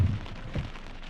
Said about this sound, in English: Well, as you can hear, it is raining.